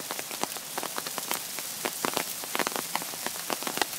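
Hail pelting down during a hailstorm outdoors, a dense steady clatter of many small sharp impacts on surfaces around, loud and continuous with no voices.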